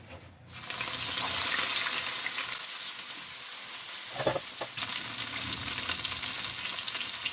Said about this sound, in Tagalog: Ayan, mainit na yung ating mantika. Iprito naman natin.